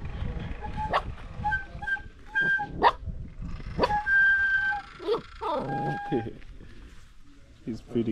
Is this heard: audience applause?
no